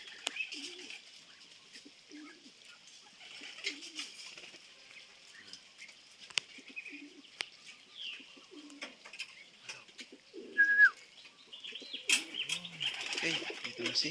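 A white flight hen racing pigeon arriving at its loft after a 93 km training flight, soft cooing and light wing patter and shuffling nearby, with a faint chirp and a brief spoken remark.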